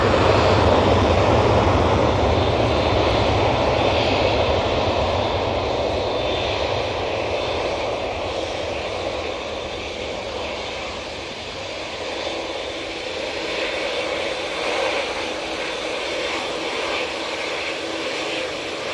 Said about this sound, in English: it's the 787-9 Dreamliner going back to Doha